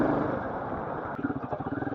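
A Royal Enfield Himalayan 450 motorcycle rides along in gear, its engine droning steadily and then settling into a pulsing, throbbing beat near the microphone.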